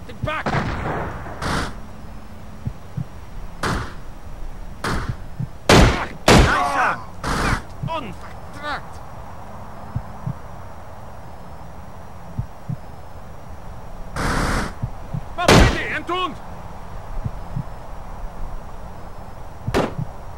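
Gunfire in the Xbox video game America's Army: scattered loud single shots and short clusters, some close and sharp, separated by quieter stretches of low background noise.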